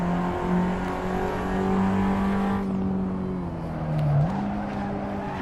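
A race car in the Assetto Corsa sim racing game holds a loud, steady engine drone with a shift in pitch partway through, a brief dip and recovery in revs, with faint tyre squeal underneath.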